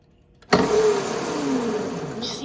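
A Razor electric scooter motor starts abruptly and holds a high electric whine under throttle, its pitch sliding slightly as it runs close to the microphone.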